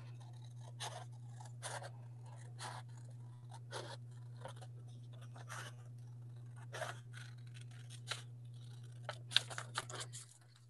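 Quiet, intermittent snips and scrapes of scissors cutting paper, spaced irregularly over a low steady hum, with a quicker cluster of cuts near the end.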